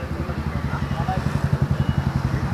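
Close, thumping idle of a Royal Enfield 350 motorcycle fitted with a new aftermarket exhaust, a rapid, even, pulsing beat throughout.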